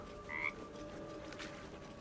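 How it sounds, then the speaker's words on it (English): Frog croaks in the Baldur's Gate 3 video game while exploring a putrid bog: a single short, bright croak near the start, followed by quiet ambient swamp background. "The frog croaks a friendly eep."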